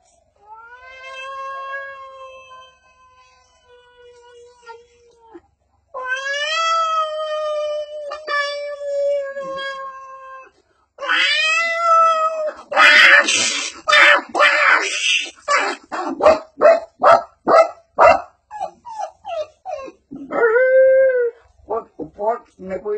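A human voice mimics a cat's drawn-out meows and yowls, then breaks into a dog's rapid barks and howls, loud and close, with pauses between bursts.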